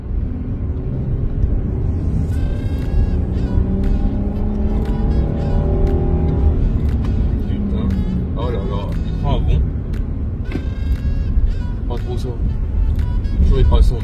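Hyundai Genesis engine revving and climbing through the gears, a loud steady drone with rising and falling pitch throughout, while someone talks over it from inside the car.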